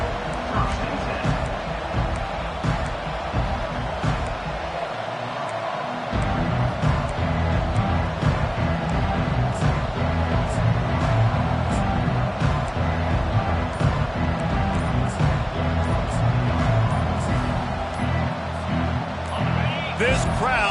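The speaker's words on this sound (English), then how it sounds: "This crowd bringing an ear-splitting welcome to their visitors." A loud football stadium crowd roars steadily as a dense wall of noise, with a commentator talking over it throughout.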